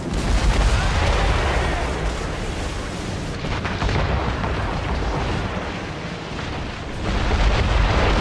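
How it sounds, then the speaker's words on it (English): An enemy ship's cannon volley in Assassin's Creed Rogue, a dense, continuous roar of overlapping blasts and explosions, loud and unbroken, swelling again near the end amid battle clamor. "They are firing a volley!"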